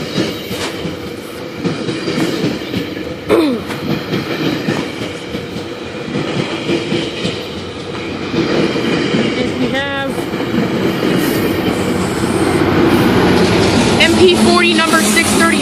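An express GO train runs past the platform at Danforth station, steady heavy rumble with clacking wheels and a brief squeal, growing louder toward the end, with a voice briefly heard at one point.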